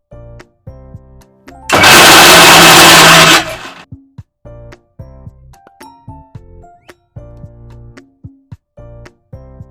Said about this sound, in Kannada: ಮಿಕ್ಸಿಗೆ ಹಾಕೋಬೇಕು.